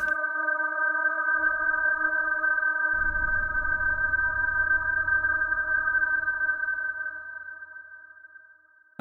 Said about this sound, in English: So that's like a frozen reverb sort of thing.